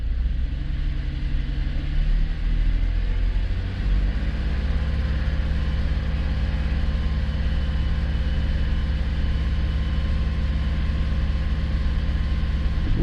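A car engine held at a steady 2,000 rpm during a battery test, giving a continuous low rumbling drone with a stable hum throughout, close and alone with no talk.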